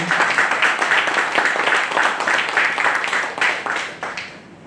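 An audience at a textile industry event breaks into loud, dense applause that holds strong for several seconds, then thins and fades away near the end.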